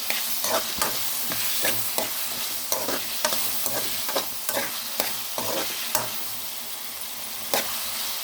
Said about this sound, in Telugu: ఇలాగ మధ్య మధ్యలో కలుపుతూ ఉండాలన్నమాట టమాటా అంతా మంచి మగ్గాలి